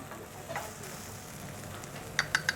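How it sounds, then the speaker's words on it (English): Turmeric and Moroccan spices frying with onions in a pan, giving a soft, steady sizzle, with a few light taps of a utensil near the end; no voices. "I really want to fry these spices with the onions"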